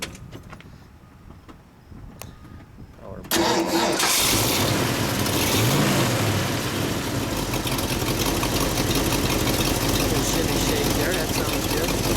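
A 1969 Ford Mustang Mach 1's 351 V8 engine cranks over and catches, then settles into a loud, steady rumbling idle close by, after a few quiet clicks and a voice beforehand.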